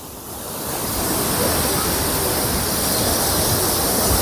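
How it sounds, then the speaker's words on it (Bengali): Bhatta Falls near Mussoorie roars as a dense, continuous rushing wash of falling water, loud and close with a steady broad hiss. "এই হচ্ছে ভট্ট ফলসের সামনে চলে এসেছি। জলের প্রেসার দেখেছেন কিরকম?"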